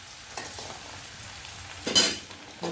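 Onions and potatoes fry in a pan under a low, quiet sizzle. Two louder scraping stirs come through, one brief early and a stronger one near the end, with a small clink at the close.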